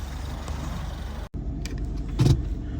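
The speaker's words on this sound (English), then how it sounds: "Now let's go take a drive around the neighborhood." A car drives through a residential neighborhood in Richfield, Minnesota, with a steady, close road and engine rumble. A brief light jingle and a short swell of noise come near the end.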